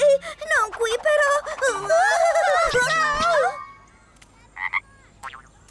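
A cartoon frog croaks in a series of loud, warbling, voice-like calls that stop abruptly, followed by a few faint, short squeaks.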